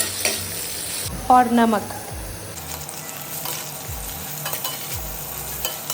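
Potatoes fry in a hot pan, being stirred with a scrape and shuffle over a steady sizzle, close and fairly loud, with a brief spoken word partway through.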